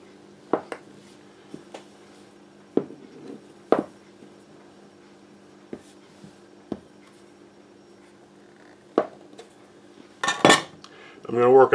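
Knife cutting pie dough into rough quarters on a board for small cast-iron skillet pies, heard as sparse separate taps and clinks of blade on surface, ending in a louder rustling scrape.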